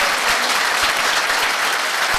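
An audience at a talk breaks into loud, vigorous clapping, a thick wash of hands lasting a couple of seconds with no pause.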